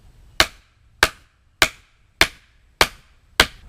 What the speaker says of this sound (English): But you're hitting on the nut and not the threads